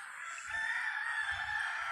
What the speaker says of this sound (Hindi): ये देखिए मुर्गे का आवाज़ है सामने,